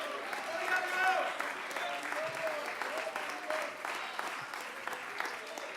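A church congregation claps in praise to the Lord, steady sustained applause throughout with a few voices calling out over it.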